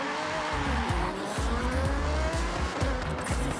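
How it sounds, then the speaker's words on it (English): Aston Martin Vulcan in the racing game Forza Horizon 6, its engine droning and shifting while tires squeal and skid in repeated bursts, heard up close and without talk. "The Aston Martin Vulcan is a very, very fast car, so let's try that out."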